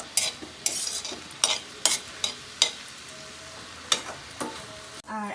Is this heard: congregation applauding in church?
no